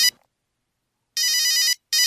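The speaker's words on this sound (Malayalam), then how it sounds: "എൻ്റെ ഫോണല്ലേ പാടിക്കണത്" A mobile phone ringtone rings at a house during a festival day, two loud bursts of a repeating electronic melody, the first longer, with a short gap between them and silence before.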